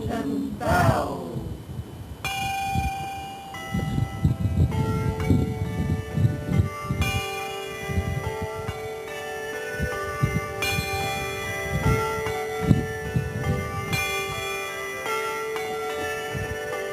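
Church tower bells at Knowlton ring in overlapping peals, repeated strikes layered over a long, sustained shimmer of tones that carries steadily to the end, with no clear talk.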